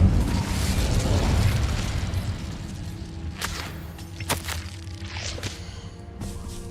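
Incendio fire spell cast in Hogwarts Legacy, a roaring burst of flame that swells then fades, followed by sharp crackles and whooshing magical hits, loud and close.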